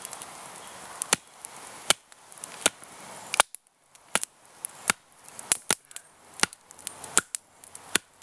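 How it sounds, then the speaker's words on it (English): A Grylls Ultimate Survival Knife splits knotty wood for a rainy-day campfire, giving sharp, close chopping strikes at an irregular pace, around a dozen loud cracks over a faint rustling background. "I'm gonna keep using this Grylls Ultimate Survival Knife. Just splitting up some more wood here"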